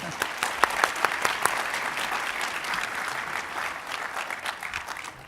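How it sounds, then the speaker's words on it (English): A crowd applauds steadily for several seconds, dense clapping that starts sharp and gradually thins. "how about a round of applause for our moderator, Mike Thompson"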